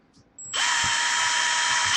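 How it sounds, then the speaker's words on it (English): A power drill drilling a small pilot hole for a turn signal kit on a CF Moto ZForce 950 side-by-side whirs up suddenly after a soft click and holds a steady, high-pitched whine, close and loud. "then drill a small pilot hole"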